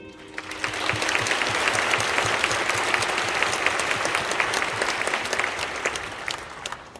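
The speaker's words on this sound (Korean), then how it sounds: "박수 한번 보내주십시오." A church congregation at a Korean War veterans' memorial service applauds, swelling to a full, steady roar of clapping across the room with scattered sharp claps, then tapering off at the end.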